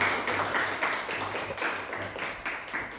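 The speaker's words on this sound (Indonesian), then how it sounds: "Kasih aplaus dulu buat Habib." A class applauds a student named Habib, with rhythmic group clapping in pulsing bursts, moderately loud and close, with no talking.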